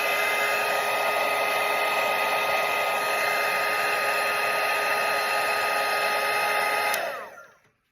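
A hair dryer blows steadily and loudly on a watercolour painting of a parrot, a continuous whirring hum that cuts off near the end.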